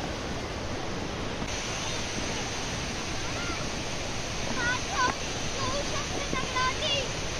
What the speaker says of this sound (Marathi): आता तुम्ही धबधबे आणि त्याचा आवाज ऐका आणि मस्त आनंद घ्या